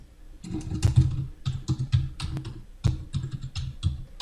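Rapid clicking of a computer keyboard as Python code with a print statement is typed, keystrokes coming in quick bursts with short pauses, close and fairly clear, no voices.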